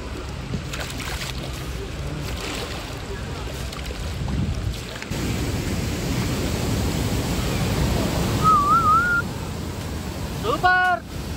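A round bamboo coracle rides on the river at Hogenakkal, with steady rushing water and wind noise throughout and brief voices and whistle-like tones near the end.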